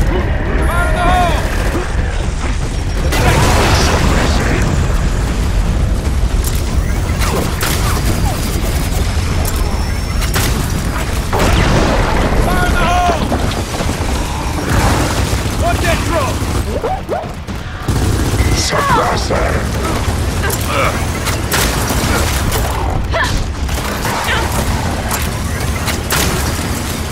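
Heavy booms and crashing blasts from thrown grenades in the video game Gears of War 4, loud and dense through a busy battle mix, with voices talking over the action.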